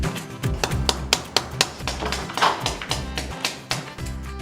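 A nail is hammered into a wall with a run of quick taps and thumps at an irregular rhythm, close and moderately loud over a low background hum.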